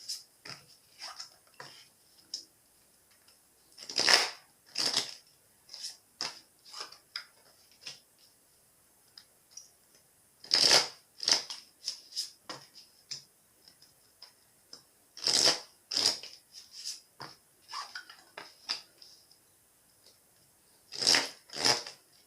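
Tarot cards are shuffled by hand in quick riffling bursts, several separate rounds with short pauses between, close and crisp with no voices.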